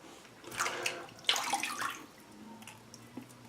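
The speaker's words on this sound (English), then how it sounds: "Rinse off." Water splashing and running as a face is rinsed during a wet shave with a Q-Shave razor, a close, soft wash of splashes and trickles over a few seconds.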